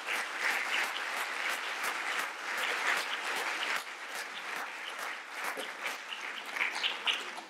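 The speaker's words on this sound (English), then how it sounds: "I would really like you to join me in giving yet another round of applause to Paul" Conference audience applauding a panel at an environmental law anniversary event, a full, steady round of clapping that swells and eases slightly, with no talk over it.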